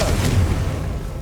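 A Confringo blasting spell explodes in Hogwarts Legacy, a deep, loud, sustained boom with rumbling low end that holds steady for about a second.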